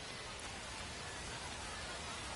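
Steady rain pouring down in a baseball video game, a dense even hiss of downpour running throughout at low level with no other sounds.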